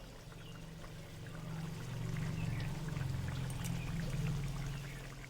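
Fresh cream poured into a pointed gourd gravy with a little butter in a home kitchen. It makes a soft, steady pouring trickle that swells and fades over several seconds, faint and continuous, with no talking.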